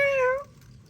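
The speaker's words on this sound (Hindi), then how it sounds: "तो अभी बिल्ली भी जो है यहाँ पे ही घूम रही है" A single short cat meow, clear and fairly close, fading after half a second into quiet outdoor background.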